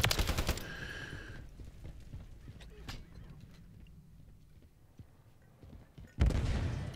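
Bursts of rifle fire from a stockless Hemlock in a first-person shooter game, with a loud volley at the start and another at the end, separated by quieter in-game footsteps and ambience.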